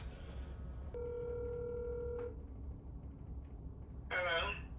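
A telephone call rings out with a steady electronic tone for about a second and a half, followed by quiet line noise and a brief burst of a voice at the end as it is answered.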